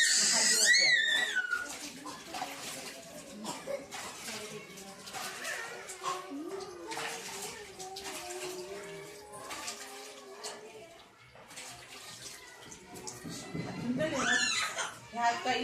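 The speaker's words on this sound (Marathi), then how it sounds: "आता आपली पाणी हात धुवायचे" Hands are rinsed under running water, a soft ongoing splash and trickle mixed with near, steady speech and a brief chuckle.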